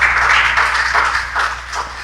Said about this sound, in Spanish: ¿Por qué no le dan un aplauso al Señor?